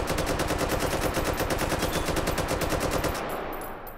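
An AK rifle in the VR video game Hot Dogs, Horseshoes & Hand Grenades fires a rapid, sustained automatic burst of evenly spaced loud shots for about three seconds, then the echo fades.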